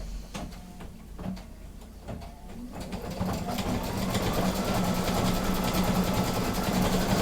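A Brother Luminaire embroidery machine stitches a decorative pattern, its steady mechanical whir and rapid needle chatter building from a quieter start to a continuous, close hum after a few seconds.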